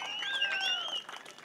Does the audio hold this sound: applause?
yes